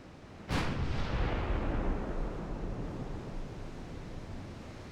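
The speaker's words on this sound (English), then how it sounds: "my battleships have already opened up" Battleship main guns fire on destroyers in a 1903-era naval strategy game: one sudden heavy boom that rolls out into a long, roaring rumble and slowly fades, with no voices.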